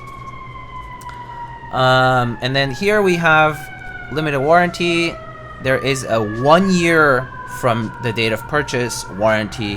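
Emergency vehicle sirens heard from outside, their rising and falling wails running beneath someone talking continuously in the foreground, moderately loud throughout.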